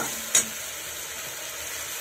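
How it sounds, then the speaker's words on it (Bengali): Continuous close sizzle of spice paste frying in a wok for a rohu fish curry, with a single brief scrape of a spoon near the start. "ভালো করে নাড়িয়ে নেব কড়াইয়ে, যাতে নিচের দিকে না লেগে যায়"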